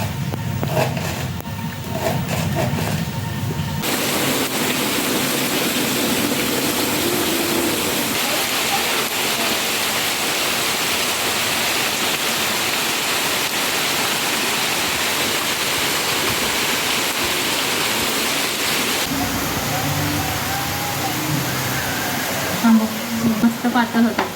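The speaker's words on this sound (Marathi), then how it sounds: "सुट्टी आहे मस्त एकदम आराम करतोय आणि एन्जॉय करतोय पाऊस एन्जॉय करतो" Heavy monsoon rain pours steadily outdoors in a broad, dense rush that never lets up, with a short stretch of faint voices and household sounds near the end.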